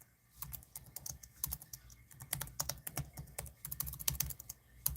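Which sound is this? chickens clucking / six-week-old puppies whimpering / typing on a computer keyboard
typing on a computer keyboard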